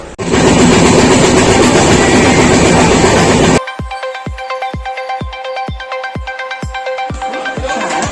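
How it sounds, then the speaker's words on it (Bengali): A moving passenger train: a loud, dense rumble gives way to a regular, rhythmic clickety-clack of wheels over rail joints, heard from on board with no speech. "অলরেডি আমাদের ট্রেন ছেড়ে দিয়েছে"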